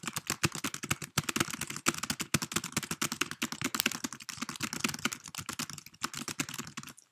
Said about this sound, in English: Then just press any key on the keyboard.